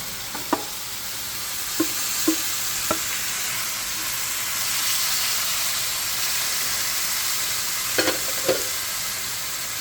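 Beef being added back to softened tomatoes for Filipino beef mechado, sizzling and frying in a pan with a steady hiss and a few sharp stirring knocks and clatters scattered throughout, no talking.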